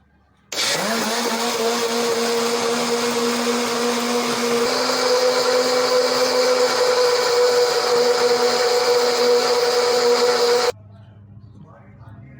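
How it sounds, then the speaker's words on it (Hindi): Blender grinding plums with sugar and salt for juice, starting abruptly and running as a loud, steady motor whine that climbs in pitch partway through, then cuts off to leave a quieter background. "अब इसको ग्राइंड कर लेंगे।"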